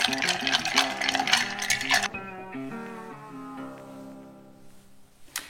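A smoked cocktail with walnut bitters is stirred, with about two seconds of quick, bright clinking of ice and spoon against glass. Steady tonal ringing follows and fades, ending on one sharp click.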